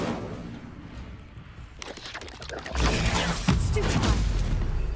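An Incendio fire spell in Hogwarts Legacy bursts out as a roaring, crackling whoosh midway through, after some faint rustling and clicks, and keeps rumbling loudly to the end.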